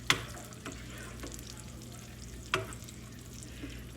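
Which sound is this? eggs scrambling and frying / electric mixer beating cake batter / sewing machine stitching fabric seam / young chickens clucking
eggs scrambling and frying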